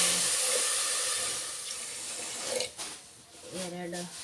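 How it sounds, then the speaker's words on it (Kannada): Water runs and splashes steadily into a pot of sugar for a few seconds, fading toward the end as a voice briefly speaks. "3 ಗ್ಲಾಸ್ನ 4 ಗ್ಲಾಸ್ನಷ್ಟು ನೀರು ಹಾಕೋತೀನಿ ಫ್ರೆಂಡ್ಸ್"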